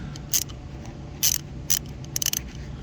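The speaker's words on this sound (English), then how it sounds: "it's going to be a 15mm socket, and I am breaking this loose" Ratchet with a 15mm socket working a rear seat bracket bolt loose in a 2014 Chevrolet Malibu, several short, sharp clicking bursts, close and distinct over a low steady hum.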